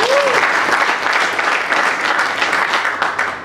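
Voters at an election assembly clap together in a loud, continuous burst of applause that carries on evenly for a few seconds, with a brief whistle near the start and faint voices underneath.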